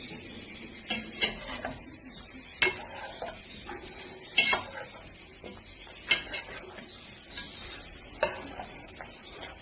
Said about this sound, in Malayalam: ഇനി ഇതൊക്കെ നന്നായി ഇളക്കി ചേർത്തെടുക്കാം